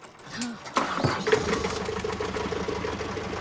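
A small engine coughs and catches after its decompression lever is flipped, settling into a rapid, close-up chugging idle, while voices are heard at the start.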